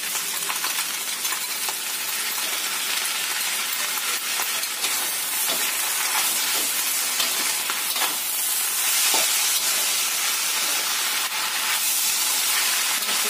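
Kwetiau noodles stir-fry in a wok with oyster sauce seasoning, a continuous bright hiss and sizzle close by, broken by repeated short clinks and scrapes of the spatula against the metal.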